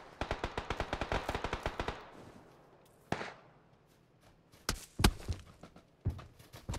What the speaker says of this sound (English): I'm being shot at again by the guys over on the farm